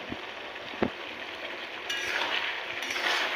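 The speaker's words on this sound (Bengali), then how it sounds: "একটু ভালো করে নেড়ে দেবো।" A spoon stirs okra poppy seed curry in a pan, scraping and clinking with a steady sizzle underneath that grows louder partway through.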